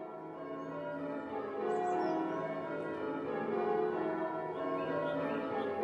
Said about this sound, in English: Here he learnt and loved the very English art of bell ringing.